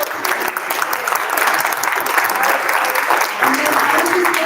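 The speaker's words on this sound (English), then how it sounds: "Let's give them a round of applause." A luncheon audience claps in a steady round of applause, moderately loud and continuous, with a few voices mingling underneath.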